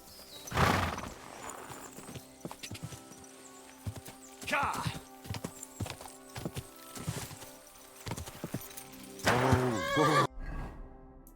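A horse in the video game Kingdom Come: Deliverance II whinnies loudly at the start and again near the end, with a steady clip-clop of hooves in between, close by.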